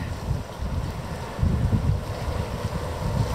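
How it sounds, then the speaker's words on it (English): Gusty wind blows steadily outdoors in cold weather, a broad low rumble buffeting the microphone and swelling louder about midway through, with no voices. "And there's a bit of wind"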